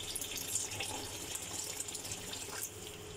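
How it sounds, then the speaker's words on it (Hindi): Water is poured into a pot of vegetable pulao after frying, at double the volume of the rice, a soft, steady splashing stream with no talking. "अब मैं इसमें ऐड कर रही हूँ पानी"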